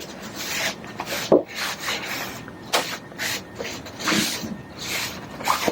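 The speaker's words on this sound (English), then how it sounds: "you can take your industrial cloth and wipe all the excess dust off" Industrial cloth rubbed over a wooden box to wipe off sanding dust, a series of close, scratchy rubbing strokes in an irregular rhythm.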